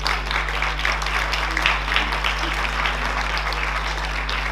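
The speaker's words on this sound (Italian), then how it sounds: "Un applauso." Sustained audience applause at a local talent event in Corbola on the Po Delta, dense steady clapping from a crowd filling the whole stretch at even loudness with no voices on top.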